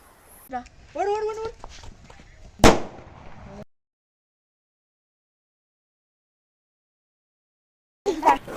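A single sharp firecracker bang rings out after a stretch of talking, then a few seconds of silence before voices return.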